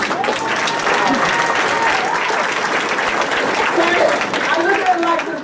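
An audience applauds steadily and loudly throughout, with voices audible under the clapping.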